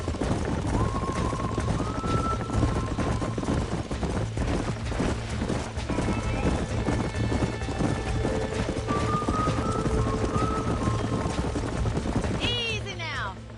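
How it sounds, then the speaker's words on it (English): Horse hooves clip-clop in a cowboy video game, a continuous trotting rhythm under a steady low rumble and ambient tones, with people talking over it and a brief whinny near the end. "These are fine horses."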